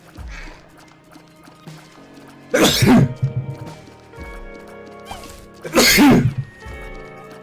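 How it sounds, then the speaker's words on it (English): Two sharp, loud sneezes close to the mic, the first around the middle and the second near the end, each a sudden burst standing out over quiet, low background sounds. "Sneeze almost got me hit."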